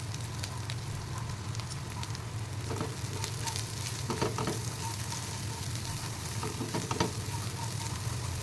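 Bitter gourd, onion and coconut pieces frying in a pan, a steady close sizzle with brief scraping stir sounds, no talk.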